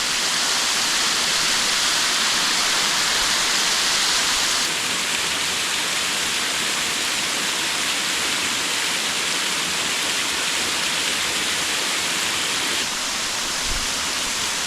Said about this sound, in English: may I present to you the Vaddi Waterfalls